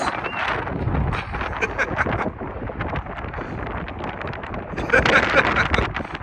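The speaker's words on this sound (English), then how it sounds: "Oh, my gosh, it's so windy." Strong highway-side wind buffets the microphone in heavy gusts, with a few brief voices breaking through the roar.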